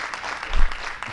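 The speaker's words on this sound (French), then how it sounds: "je vous demande, s'il vous plaît, d'applaudir très fort" Brief applause from an audience after a presentation on preventing hamstring muscle injuries, a short, steady patter of clapping with a slight swell midway.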